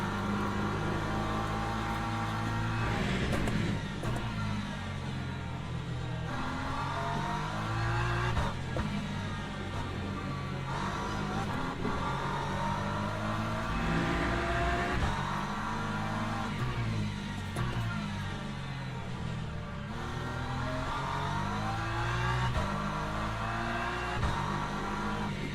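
Hypercar racing engines in the sim racing game Le Mans Ultimate, a continuous loud drone of revving and shifting engines with pitch rising and falling through the corners, steady throughout with no talk.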